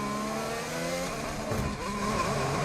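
Onboard from a Formula 1 car at the 2018 Brazilian Grand Prix, a loud close high-pitched engine wail with rising and falling harmonic pitch sweeps as it revs through gear changes.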